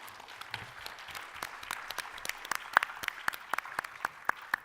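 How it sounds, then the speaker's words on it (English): Audience applause at a 2014 voters education and candidates forum, a spread of scattered, moderately loud hand claps with sharp individual slaps standing out over a soft room hum. "give a round of applause if you will before we start closing"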